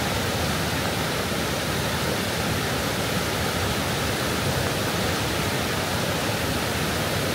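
Fast-flowing river water on a hiking trail in the Canadian Rockies near Jasper and Banff gives off a loud, steady, unbroken rushing roar close by.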